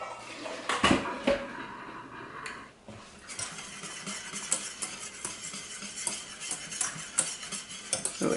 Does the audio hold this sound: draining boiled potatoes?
yes